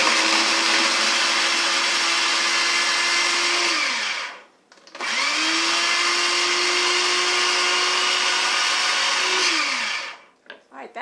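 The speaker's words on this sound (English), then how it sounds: "Okay, so I've got a few carrot chunks, and it's just a matter of grinding them." Blender grinding carrot chunks, loud and close in two long steady roaring bursts of about four and five seconds, each winding down to a brief pause, with a short restart at the end.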